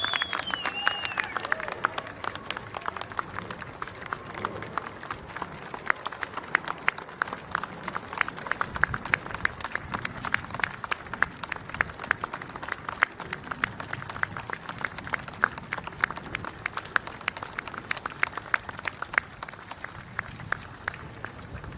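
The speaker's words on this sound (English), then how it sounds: "One more round of applause for all our World War II veterans." Sustained applause from a large audience at the 80th anniversary ceremony of V-J Day, honoring World War II veterans; dense, even clapping carries steadily for over twenty seconds at moderate distance.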